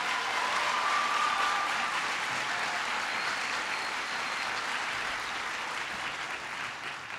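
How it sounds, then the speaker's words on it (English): Sustained applause from a large audience at a presidential event announcing an education investment, a steady, dense wash of clapping that holds evenly for about seven seconds and eases slightly toward the end, with no voices over it. "Please give him a big round of applause."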